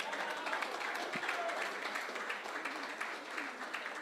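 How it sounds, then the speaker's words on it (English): Audience applause at a golf tournament ceremony at Qutab Golf Course in Delhi: steady, moderately distant clapping from a crowd, fairly even throughout. "Please, big round of applause for Rohan."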